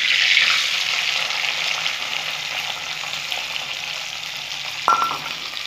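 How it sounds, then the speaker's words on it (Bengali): Large chopped onions fry in hot oil with whole cardamom, cinnamon sticks and cloves for a Bengali chicken curry, giving a close, continuous sizzle that slowly eases, with one brief clink near the end. "লাল লাল করে ভেজে নেব।"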